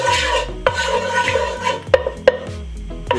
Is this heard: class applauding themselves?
no